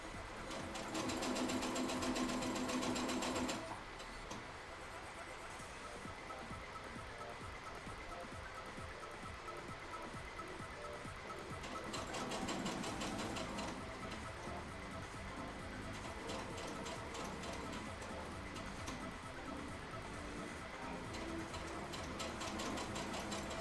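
A sewing machine stitches a seam in bursts, rattling at a fast, even pace. There is a loud run at the start, then quieter stretches, then another run in the middle. A background hum continues throughout.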